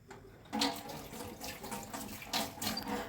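Tap water runs steadily into a kitchen sink during dishwashing, a strong broadband rush arriving after a brief quiet start and continuing with surging splashes, no talking.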